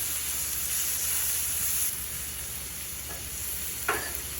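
Italian sausage, peppers and onions fry on a high-heat Blackstone griddle, with a constant loud sizzle and a couple of quick spatula scrapes toward the end.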